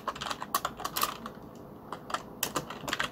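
Rapid, uneven keystrokes on a computer keyboard, close and fairly quiet, with soft clicks in short bursts and brief pauses, no talking.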